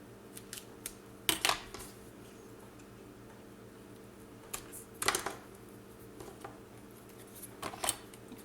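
Scissors snipping through paper while making small compartments, three short clusters of crisp snips spaced a few seconds apart over a quiet steady hum.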